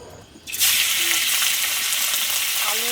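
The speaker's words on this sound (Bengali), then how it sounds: "সর্ষের তেল দিয়ে দিচ্ছি প্রথমে মাংস আর আলুটাকে ভাজা ভাজা করে নেবো" Meat and potatoes drop into hot mustard oil in a wok and burst into loud, crackling sizzle after a brief quiet moment, then keep frying with a steady hiss.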